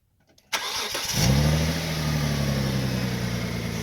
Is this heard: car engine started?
yes